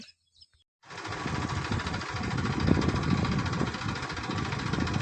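A tractor engine runs in a muddy farm field where it has come to pull out a stuck vehicle. After a brief quiet start, a loud, steady rumbling drone sets in and holds without a break.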